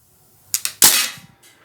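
A Crosman DPMS SBR CO2 blowback BB M4 rifle fires in a quick burst of close, sharp cracks, two short pops followed by a louder snapping shot with a brief metallic tail, then a faint click.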